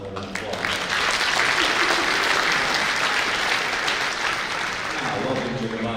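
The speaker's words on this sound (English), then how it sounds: "Let's give both of these Dragon Ballers another round of applause." A crowd at a high school athletes' signing ceremony claps steadily in sustained, fairly close applause, with voices mixed in under the clapping.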